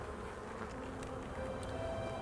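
A soft, steady insect drone of many honeybees humming together in an open hive, faint and continuous with no voices.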